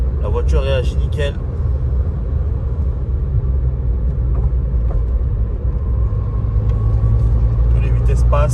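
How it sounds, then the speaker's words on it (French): Interior rumble of a Peugeot 106 driving after its single-point carburetor was cleaned: a steady engine and road drone throughout, with a person talking over it. "premier tour de roue, la voiture réagit nickel."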